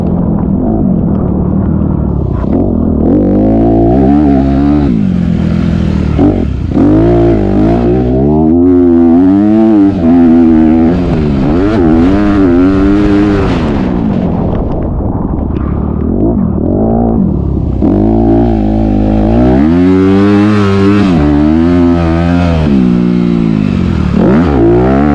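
Honda CRF 250R dirt bike ridden at a muddy motocross track in heavy rain, its engine loud and close, revving and accelerating in repeated rising and falling sweeps with rumbling low clatter throughout.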